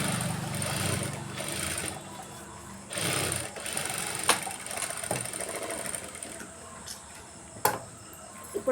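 A sewing machine stitching a lined blouse, running in steady close bursts of rapid mechanical ticking with brief pauses and small clicks between seams.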